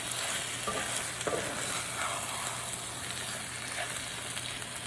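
Ground beef sizzles steadily as it is stirred and broken up in a cast iron skillet with a small GSI outdoor spatula, with scattered scraping clicks over the constant close frying hiss.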